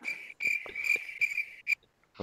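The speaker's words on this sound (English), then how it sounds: "Crickets." Cricket chirping sound effect: a steady, shrill trill pulsing in quick bursts for about two seconds, then cutting off abruptly into near silence.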